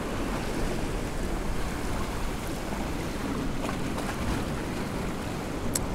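Ocean waves wash steadily against the Marine Drive shore on a cold day, a continuous broadband surf roar with wind rushing across the microphone, no voices over it.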